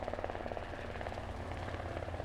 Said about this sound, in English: Are those helicopter sounds?